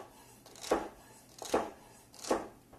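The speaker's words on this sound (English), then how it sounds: "Tip is on the board and the middle of the blade is right over the celery" A kitchen knife slices through celery on a cutting board, its tip kept on the board as the blade pushes forward. Three soft, evenly spaced chops land close up against quiet background.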